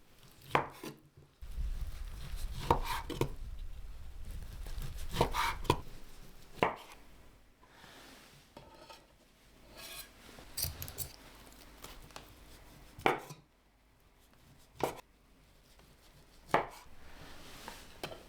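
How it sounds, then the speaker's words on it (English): A knife cuts cooled, simmered pork into thin slices on a cutting board, producing sharp, irregular taps and thuds spaced a second or more apart, close and clear with quiet gaps between strokes. "Cut them into thin slices."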